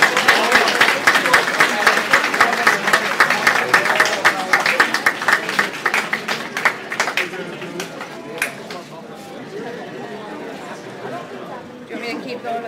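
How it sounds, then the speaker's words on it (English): Audience at a high school class of 2022 graduation celebration breakfast applauds with dense clapping that gradually thins to scattered claps, with voices and dish clatter in the room. "let's give them a round of applause"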